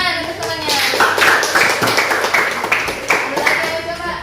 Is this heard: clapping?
yes